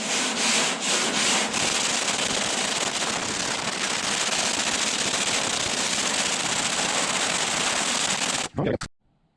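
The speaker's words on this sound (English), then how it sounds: "I've just got a Durablock with a piece of some 40 grit on it" Body filler is block sanded with 40 grit sandpaper on a Durablock, a steady, close scratchy rasp that runs continuously for several seconds, then stops abruptly near the end.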